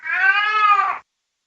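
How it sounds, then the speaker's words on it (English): A house cat gives one clear, close meow lasting about a second, loud and alone, then silence. "My cat's here."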